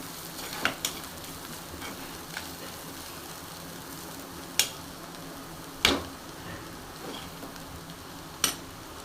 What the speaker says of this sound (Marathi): आता झाकण नाही मारणार आहे मी अशीच उघडीच ठेवणार आहे बारीक गॅसवरती छान अशी भाजू देणार आहे